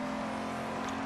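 A sports car accelerates in Need for Speed Underground 2, its engine holding a steady, close droning tone through the whole short moment with no talk.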